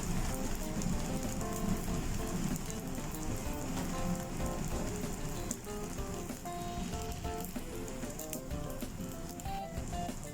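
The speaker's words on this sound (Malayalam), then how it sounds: "ഇപ്പം കല്ല് നന്നായിട്ട് ചൂടായിട്ടുണ്ട്. നമുക്ക് പൊറോട്ട ഇട്ട് കൊടുക്കാം." Kerala porotta frying in oil on a hot griddle over medium flame, a steady close crackling sizzle like patter of rain that holds throughout with little change.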